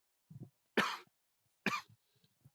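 A person coughs twice, sharp and close with a short pause between, followed by small throaty sounds in an otherwise quiet room.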